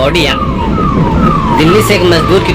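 An ambulance siren wails continuously with rising and falling sweeps, loud and close amid street noise and a crowd, as the vehicle arrives in a village in Bhagalpur, Bihar carrying a body.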